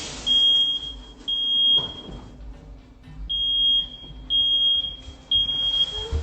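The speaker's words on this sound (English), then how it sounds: "the fire alarm finally starts sounding off" A smoke alarm shrieks during a kitchen fire: loud, piercing high beeps in repeated bursts with short gaps between them, over low rumbling room noise.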